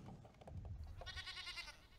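A goat bleats in a digital card game, a quiet synthesized bleat with a wavering tremolo, preceded by soft game sound effects and low background noise.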